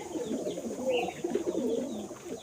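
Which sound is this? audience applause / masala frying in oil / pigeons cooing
pigeons cooing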